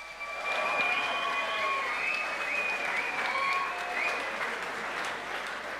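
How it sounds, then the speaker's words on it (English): Crowd applause at an MMA event after a hard-fought three-round bout, a broad wash of clapping in a large venue, with tonal whistles and cheers streaking over it throughout. "another round of applause"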